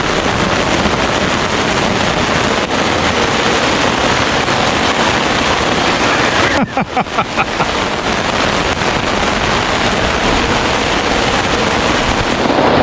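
Heavy rain pours down on a tent during a camping trip at Split Rock State Park on Lake Superior's North Shore, making a loud, steady, dense roar close around the shelter, broken briefly by a few rustling bumps partway through.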